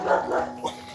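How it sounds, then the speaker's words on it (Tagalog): Stray dogs in a mountain area bark in a short burst of two or three quick, fairly loud barks at middle distance, with no talking over them. "Baka kainin tayo ng mga aso."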